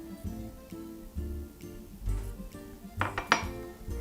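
A spoon clinks against a dish and glass while orange syrup is added to an orange cake, giving several light metallic taps and a brighter double clink near the end, close and quiet, with no talking.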